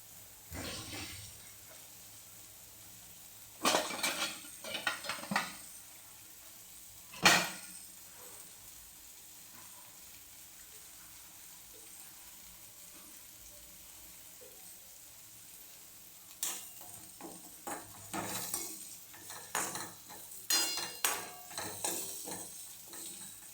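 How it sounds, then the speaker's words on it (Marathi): Bitter gourd frying in oil with turmeric over a low flame gives a quiet sizzle, broken by scattered bursts of spatula scraping and stirring against the pan, loudest in the second half. "तेल हळद टाकून थोडंसं करपून घ्यायचं स्लो गॅसवर"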